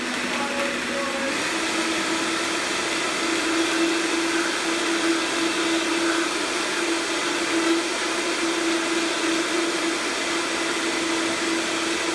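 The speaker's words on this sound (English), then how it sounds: "So, all that is in the blender." A blender runs steadily, a constant whirring drone that starts after a moment and continues unchanged for about twelve seconds.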